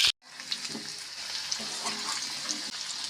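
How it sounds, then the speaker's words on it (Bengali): Raw jackfruit pieces, rubbed with salt and turmeric, sizzle and crackle steadily in hot oil, a continuous close frying hiss with occasional stirring clatter after a brief silent start. "এখন তেলে খুব ভালোভাবে এঁচড়গুলোকেও আমি ভেজে নেব"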